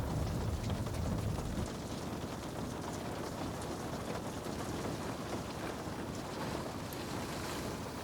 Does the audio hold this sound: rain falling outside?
yes